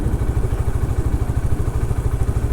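A Hero Xtreme 160R 4V motorcycle engine rolling in gear at about 20 km/h without throttle, a low, even, rapid thumping pulse, close and steady throughout.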